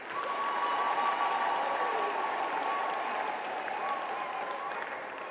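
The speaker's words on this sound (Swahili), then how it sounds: "Naomba tumpigie Mungu makofi makubwa." A church congregation claps loudly through a priest's homily, a dense, steady wash of applause lasting about five seconds, with a faint sustained keyboard tone underneath.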